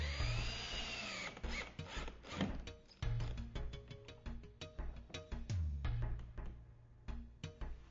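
Power drill with a square drive bit sinks a long 2.5 to 3 inch screw into a gate hinge rail, whirring motor bursts that rise and stop, with ratcheting clicks and pauses between them.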